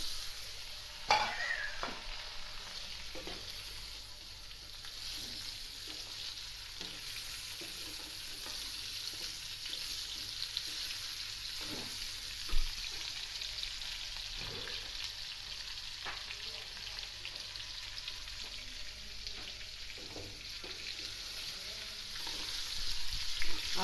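Chicken added to browned onions in a karahi fries with a steady, bright sizzle and hiss throughout, broken by occasional faint stirring clicks and scrapes.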